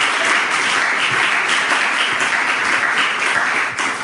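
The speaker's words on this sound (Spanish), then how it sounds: "Aplauda al Señor con libertad." Church congregation clapping loudly and continuously during a Spanish-language evangelical service, a thick, even wall of applause from many hands up close with no pause.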